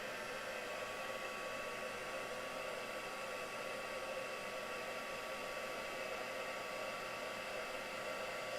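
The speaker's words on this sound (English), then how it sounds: "So just heat embossing this now." Heat gun warming embossing powder on a handmade card, a faint, steady blowing hiss and whir that runs unbroken with no speech.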